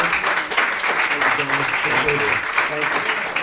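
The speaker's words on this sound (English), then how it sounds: "please give them a round of applause" Steady, dense audience applause for Bobby and Evan on a Liverpool boys soccer show, loud and continuous for the whole stretch, with voices underneath.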